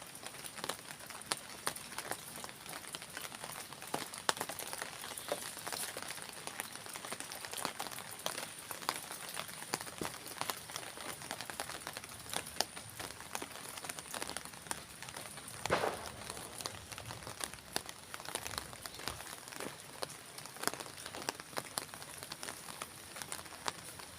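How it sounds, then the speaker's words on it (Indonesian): Rain falls steadily in a remote village, a faint, even crackling hiss with dense tiny drop ticks lasting the whole stretch, distant and without speech. "Dan suasananya sekarang lagi hujan ya teman-teman."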